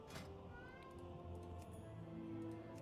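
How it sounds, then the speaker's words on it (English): A cat meows at a door, faint and somewhat distant, mixed into a busy background of layered game music and tones; no speech is heard. "The meow. You guys hear that?"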